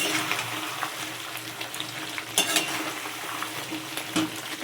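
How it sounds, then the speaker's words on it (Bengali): Potato and cauliflower being sautéed with khichuri spices in a pan, a soft continuous sizzle with scraping stirs and a few sharper knocks of the spoon. "আলু ফুলকপিটাকে খিচুড়ি মশলাটাকে কষিয়ে নিচ্ছ"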